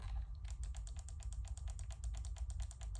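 A digital, non-analog game controller button, apparently a membrane-type switch, is pressed over and over, giving a rapid, steady run of small sharp clicks, close up and alone over a low hum.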